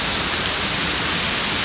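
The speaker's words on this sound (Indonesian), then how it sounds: "Silakan kemari untuk menikmati keindahan air terjun Pecu setinggi" The 40-metre Pecu waterfall in Soko, Ponorogo, Indonesia roars as a loud, unbroken rush of water, a steady hiss filling the whole clip with no voices.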